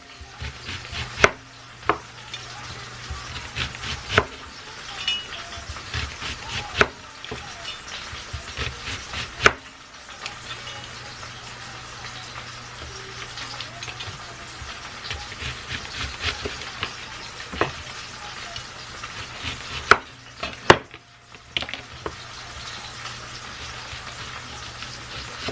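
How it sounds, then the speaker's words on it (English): Knife chopping onion slices on a cutting board in a home kitchen, a steady run of close, crisp taps with brief pauses, alone over a faint low hum. "cut up some onions"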